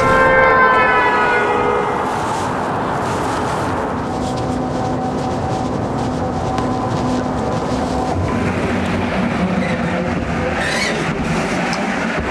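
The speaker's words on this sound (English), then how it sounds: "heard the sound of a passing car" A busy street with traffic rumbling past, and a loud horn-like tone sliding in pitch early on, fading into steady road noise.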